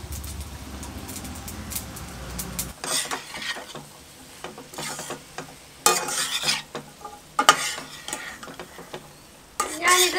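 Cashews, carrot, potato and beans stir-frying in a pan for a ration-rice biryani: a low rumble first, then bursts of loud sizzling and clattering scrapes as the vegetables are tossed and stirred, coming in uneven waves.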